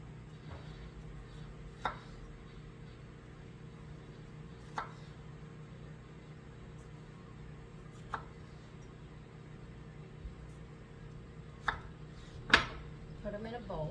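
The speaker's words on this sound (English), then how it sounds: "you're going to cut it about 1/4 of an inch" A knife slices kiwi into quarter-inch rounds for dehydrating, giving a few sparse, sharp taps on a cutting board at irregular intervals against a quiet room hum, with a voice talking in places.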